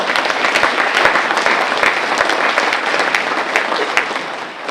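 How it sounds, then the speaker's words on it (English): Luncheon audience applauding at a founders day event, a dense, steady wash of many hands clapping throughout, loud and sustained without pause. "So give yourselves a round of applause."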